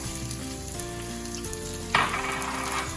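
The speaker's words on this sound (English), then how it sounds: "I'm going to add onions in here." Chopped white onions hit a hot pan for a white sauce pasta and sizzle at a low level at first, then swell into a sharp, louder crackle partway through.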